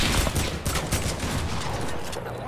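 SMG fire in a video game, a short dense burst of rapid shots running continuously at steady loudness.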